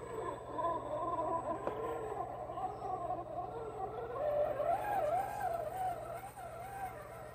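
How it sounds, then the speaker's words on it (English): An RC crawler's electric motor whines steadily at low speed, a continuous wavering hum that rises and falls slightly in pitch as it crawls along, close and alone. "I know this motor's definitely got some good slow crawling ability and really good drag brake."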